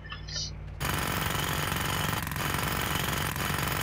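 Heavy, rapid pounding from a hammer smashing things in a demolition simulator video game, bursting in abruptly after a quiet moment and continuing as a loud, dense, unbroken clatter.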